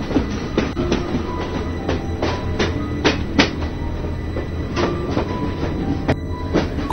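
A moving train rumbles steadily from inside a carriage, with a deep continuous drone and repeated clicking wheel beats over rail joints, fairly loud and close, no one speaking.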